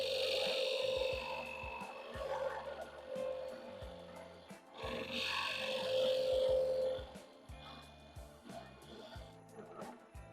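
Spindle gouge cutting a wooden workpiece spinning on a lathe, a steady scraping, rasping cut with a constant motor hum, swelling in two longer passes, close and loud with no talk.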